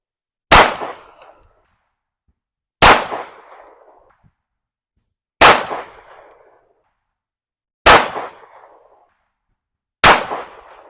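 A PSA Dagger 9mm pistol fires 115 grain MagTech rounds outdoors, five sharp loud shots spaced about two to three seconds apart, each with a short decaying echo, no talking.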